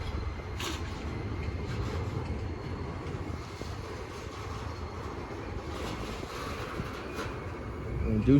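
A train slows to a halt at the Depew Amtrak station on a Friday evening, a low continuous rumble of rolling cars with faint squeals, steady and moderately loud, rising slightly at the end.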